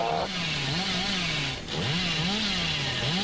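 The Hillbilly's chainsaw in Dead by Daylight revs continuously, a loud, rough buzzing drone that swells and dips in pitch in repeated waves, close and steady throughout with a brief lull midway.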